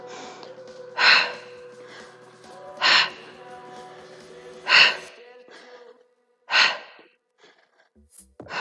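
Four strong, evenly spaced breathy exhalations during a Pilates exercise, each a short forceful puff roughly two seconds apart, close and fairly loud over a faint background hum, with a softer breath at the end.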